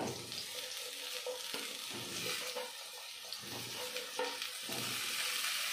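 Steady sizzling of cauliflower and potatoes frying in a pan, with occasional stirring scrapes and clatter throughout, close and continuous.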